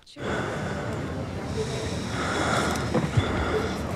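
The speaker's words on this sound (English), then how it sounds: "It's normal, average breathing." Loud, heavy breathing from a TV show scene, rough snorting breaths that swell and stay close, with a few sharper gasps near the end.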